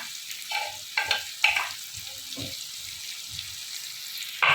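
Spices such as white cumin, red chili and turmeric sizzle in hot oil for a fish curry, with short bursts of frying and stirring over a quiet kitchen background, a louder sizzle returning at the end.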